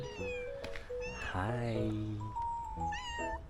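A cat meows close by with several drawn-out, wavering calls, one stretched into a long whine, while a person speaks briefly.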